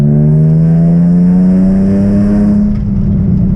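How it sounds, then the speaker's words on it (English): A Nissan 350Z's loud aftermarket exhaust drones and rises as the engine revs steadily, close and powerful with a deep buzzing tone. "Really don't like the sound of this exhaust."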